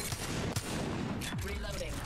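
Flatline assault rifle firing in Apex Legends, a fairly quiet, dense burst of rapid automatic shots running continuously behind other game noise.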